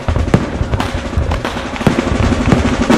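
Dense crackling bursts of fireworks, steady and loud, with sharp pops scattered throughout a continuous rumbling barrage and no voice.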